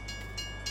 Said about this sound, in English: I believe that's a train coming.